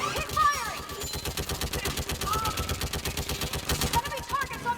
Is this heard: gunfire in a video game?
yes